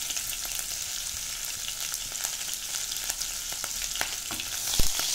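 Cumin seeds, green chili and asafoetida frying in hot oil for a wheat-flour dish, a steady close sizzle with light crackles and a few sharp pops, no voices.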